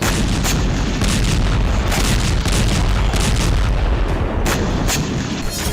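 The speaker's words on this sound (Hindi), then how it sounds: "रात के वक्त रूस ने यहां ताबड़तोड़ मिसाइलें दागी।" Russian missile strikes explode over Sumy at night in a dense, loud barrage of booms and cracking blasts, several sharp impacts standing out over a continuous rumbling roar.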